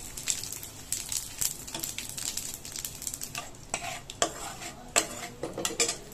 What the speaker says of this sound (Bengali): ওই তেলেতে দিয়ে দিলাম 2টো শুকনো লঙ্কা, তেজপাতা আর গোটা জিরে। ফোড়নটা একটু ভালো করে ভেজে নেব।